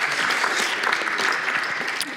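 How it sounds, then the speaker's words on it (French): Loud, dense applause from a crowd at a conference session on work and jobs, steady clapping throughout without pause. "Applaudissements."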